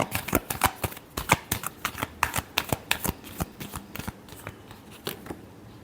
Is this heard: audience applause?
no